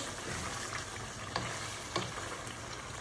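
Seasoning stirred into a cooking pan over a steady background hiss, with a couple of faint utensil scrapes and clinks standing out briefly.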